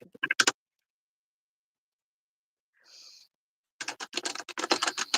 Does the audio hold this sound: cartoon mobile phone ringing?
no